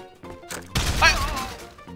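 A single loud gunshot in Garry's Mod Trouble in Terrorist Town, a sudden broadband crack that rings briefly and fades under game noise, with voices talking before it.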